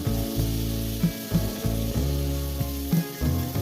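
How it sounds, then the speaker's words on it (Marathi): Brinjal pieces salted and sautéing in a pan for khara vangi, a steady close sizzle with a few brief stirring knocks, under background music and without talk. "मीठ टाकल्यानंतर वांगे काय करायचे छान परतून घ्यायचे"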